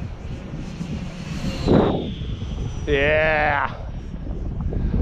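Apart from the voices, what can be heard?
Air Tractor model plane making a full-throttle pass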